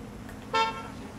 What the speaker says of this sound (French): Enfin, le klaxon. La sonnette.